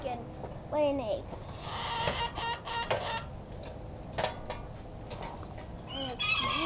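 Backyard chickens near a garden under a mature mesquite tree cluck in short, rising calls, a few close notes up front, then scattered clucks over a steady rustling background.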